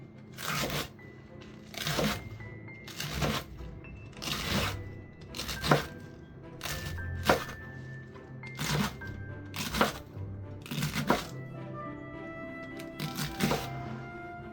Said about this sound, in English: Roughly chop the leeks as you see in the video.